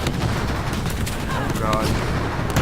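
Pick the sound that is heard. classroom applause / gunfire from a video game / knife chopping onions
gunfire from a video game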